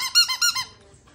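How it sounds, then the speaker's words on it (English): A squeaky dog toy for a Biewer Terrier puppy squeaks four times in quick, close, bright bursts, then falls quiet. "What about a squeaky toy? Oh, a squeaky toy."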